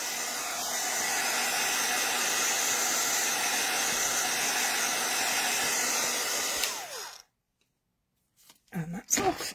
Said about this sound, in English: So heat tool, just a quick blast to dry it off.